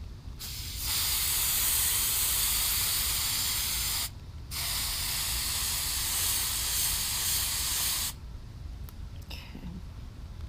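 Hairspray hisses from an aerosol can onto glazed pottery in three long, steady bursts separated by short pauses, loud and close, with faint handling noise afterward.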